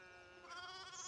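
A sheep bleats in the video game Pentiment, a single short wavering cry that is quiet and slightly distant, heard alone.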